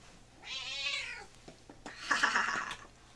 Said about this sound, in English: The one you will hear meowing through everything.